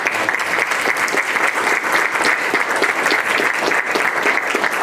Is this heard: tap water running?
no